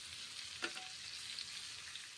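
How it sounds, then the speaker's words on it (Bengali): Pointed gourd pieces fry in mustard oil, giving a soft, continuous sizzle close by with a couple of faint clinks from a utensil, and nobody speaking. "সর্ষের তেল দিয়েছি, পটলগুলো ভেজে নিচ্ছি।"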